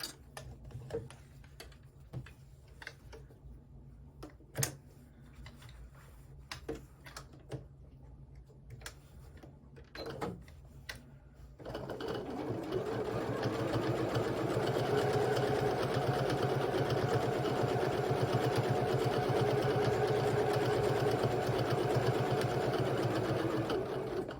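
A sewing machine quilting fabric: the first half holds only faint scattered ticks and clicks, then the motor starts a loud, steady, continuous run that holds to the end, with no voices.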